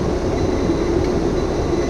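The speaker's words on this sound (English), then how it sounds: "They split the whole train, moved it forward." A long train rolls forward on the tracks beside a road, a loud close steady rumble with a droning hum and no distinct clacks, continuous throughout and with no voices.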